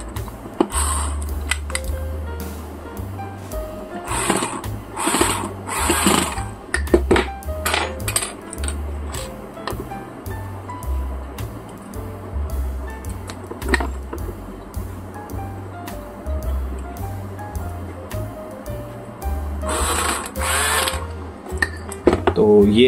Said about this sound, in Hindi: तो यहाँ पर मैं सभी स्क्रू को कस दूंगा।